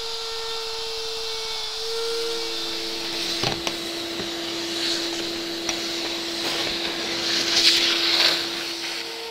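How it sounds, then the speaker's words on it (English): A vacuum runs close by, drawing up wood chips cut from a tile inlay recess in a wooden tabletop, a steady droning hum and hiss with a few brief clicks and rattles as debris is sucked in. "I'm periodically going to have to come back and vacuum out chips"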